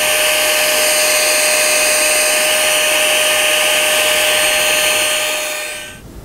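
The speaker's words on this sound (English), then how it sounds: "It certainly is the ideal car vacuum" A small handheld car vacuum cleaner whirs steadily at close range with a loud, even high-pitched motor whine, then powers down and cuts off near the end.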